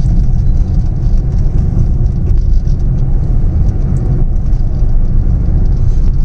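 A Maruti Suzuki car gathers speed in fourth gear, giving a steady, loud engine and road roar heard from inside the cabin, with no talking.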